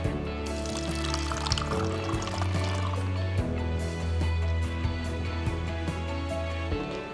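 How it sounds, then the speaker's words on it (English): Vinegar poured into a plastic bottle for a baking soda and balloon experiment, a steady liquid trickle and fill running several seconds under low background hum. "I will be pouring vinegar, which is an acetic acid,"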